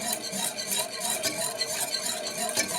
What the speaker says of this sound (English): You have to continuously beat this and add butter.